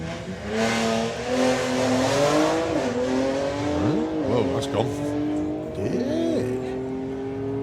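At a Doorslammers drag race, a front-wheel-drive car and a six-cylinder BMW rev loudly and launch with rising engine pitch and sweeping tones, an announcer talking over the roar.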